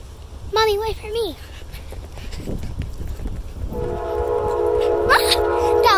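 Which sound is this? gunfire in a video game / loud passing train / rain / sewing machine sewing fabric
loud passing train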